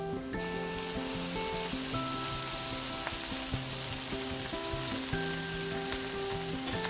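Vegan pancake batter sizzles steadily in a buttered pan, a continuous moderate frying hiss with faint background music tones running throughout.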